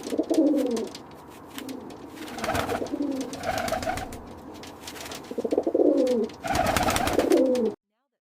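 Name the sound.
pigeons cooing at a breeding farm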